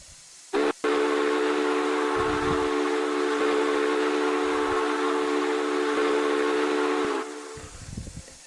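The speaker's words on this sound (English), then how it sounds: "let's hear this whistle up" A Union Pacific steam locomotive whistle in the video game Rails of RO-Scale blows in one long, loud, steady chord after a brief opening toot, then cuts off abruptly, leaving faint rumbling.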